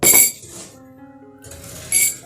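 Glass and a water bottle handled for a classroom science experiment with detergent and turmeric indicator, giving two short bright clinks at the start and end with quieter handling sounds between.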